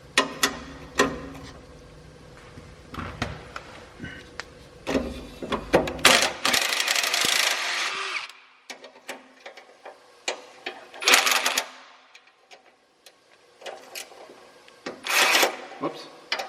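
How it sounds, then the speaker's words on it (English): A ratcheting swivel-head box wrench works an exhaust nut on a Porsche Cayman S, giving bursts of rapid clicking and metallic rattles separated by pauses, close and fairly loud, with someone speaking between them. "Mine is a ratcheting box wrench with a swivel head."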